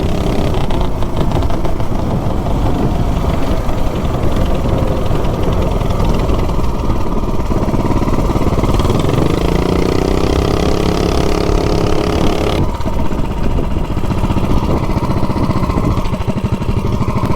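A 420cc minibike engine runs at a steady cruise, a loud, close, continuous rumbling drone with slight shifts in pitch as throttle changes, heard from on the bike with wind noise.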